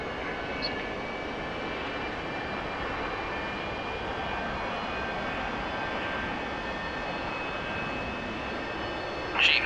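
An A-4E-C Skyhawk jet engine in the DCS flight sim idles steadily after a cold start, a constant close whine and roar with high tonal lines, and a brief sharp noise right at the end.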